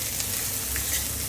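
Onions frying in a pan with black cardamom and cloves for mutton yakhni pulav, giving a continuous close sizzle with no talk.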